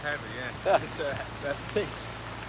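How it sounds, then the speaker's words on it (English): Rain falls steadily during a thunderstorm, a soft, even hiss of drops that stays fairly faint, with a brief spoken word near the start. "The rain continues"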